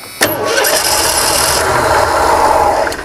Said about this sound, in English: Let's try cranking.